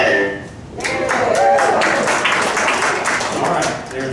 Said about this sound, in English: there's thunderous applause